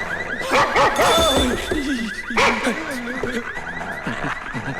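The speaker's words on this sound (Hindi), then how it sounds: "कुत्ता।" A dog barks several times in quick bursts close by, mixed with a repeating high chirping tone and some background voices.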